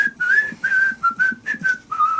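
A whistled Western theme melody used in Django Unchained, a clear solo whistle carrying a tune of several sustained and sliding phrases with short gaps, close and loud.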